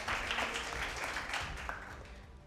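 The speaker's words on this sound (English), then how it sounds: "a round of applause." Faint audience applause rises at a national junior school debate competition, a soft, continuous patter that fades slightly toward the end.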